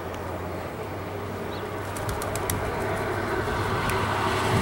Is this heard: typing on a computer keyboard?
no